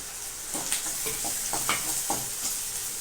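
Tomatoes go into golden fried onions in a pan for chicken gravy, with a constant hiss of frying and a series of stirring scrapes and clatters of a spoon, close and without any talk.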